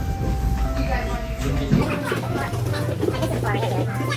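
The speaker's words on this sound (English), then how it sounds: "Coach, it's time to board the train." A train heard from on board, a steady rumble and clatter of rolling wheels filling the background while people talk nearby.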